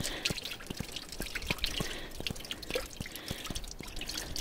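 Water pours from a pipe into a bucket outdoors in snow at a northern dacha, a steady close splashing trickle with irregular drip-like plops throughout.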